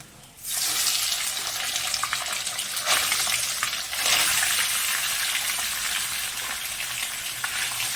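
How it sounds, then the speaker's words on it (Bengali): Soybean chunks drop into hot oil and fry with a loud, steady sizzle that starts abruptly and keeps a dense crackling hiss throughout, close by. "এই তেলের মধ্যে সয়াবিনগুলো দিয়ে দেবো"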